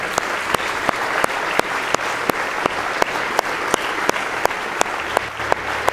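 A church congregation claps in a steady, even rhythm, with single beats spaced well apart and dense applause running steadily between them.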